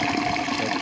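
Water churns and bubbles steadily through a homemade Venturi aeration setup, a brief, continuous, fairly close gurgling rush with no talking.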